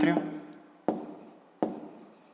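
A pen writing on paper during a fifth-grade maths exercise, three short scratchy strokes spaced apart, close and fairly quiet, with a little speech at the start.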